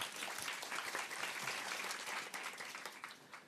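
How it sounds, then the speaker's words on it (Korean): An audience at a youth forum in Korea claps steadily to welcome a speaker to the stage, a dense and even round of applause that fades slightly toward the end. "박수로 맞아주세요"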